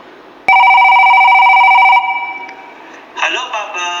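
An electronic telephone ring sounds loud and close for about a second and a half as a steady warbling tone. Then comes quieter noise and a brief burst of another tone-like sound, with voices nearby.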